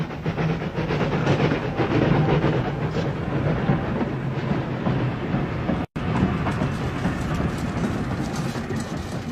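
A train rumbles past on a railway line behind a market-town house, a loud, steady roar with faint clattering that holds for several seconds and briefly drops out before resuming.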